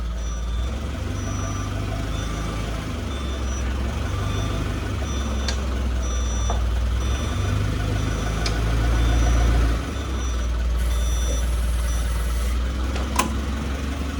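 Forklift reversing in a workshop, sending out a series of repeated reversing beeps over a steady low engine idle, with occasional sharp clanks.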